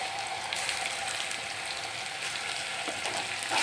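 Ginger-garlic paste fries in hot oil for an eggplant curry, giving a steady, dense sizzle close by that carries on evenly throughout, with a slight swell near the end and no voices.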